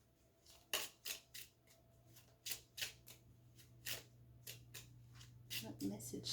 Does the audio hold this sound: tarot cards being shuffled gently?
yes